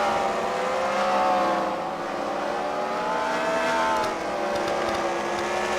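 Race cars circling a track during a Fight Night race at the Freedom Factory, a steady, dense engine drone with slight rises and dips, heard from a distance and continuing throughout.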